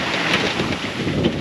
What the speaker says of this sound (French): il y a beaucoup de houle, beaucoup de vent